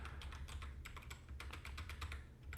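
Quick, steady keystrokes from someone typing letters on a computer keyboard, heard close up, quiet and alone with no talking.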